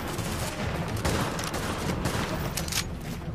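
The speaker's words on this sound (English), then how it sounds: "I'm shooting." Gunfire rattles in rapid, dense volleys in The Division, a shooter video game, with bursts layered over one another and a constant combat din running underneath.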